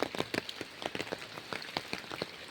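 Rain comes down over soft, wet farm soil, heard as a busy patter of nearby drops striking a surface in quick irregular taps over a low steady hiss.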